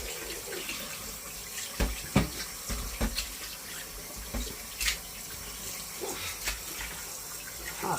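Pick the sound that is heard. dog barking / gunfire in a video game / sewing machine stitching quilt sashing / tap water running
tap water running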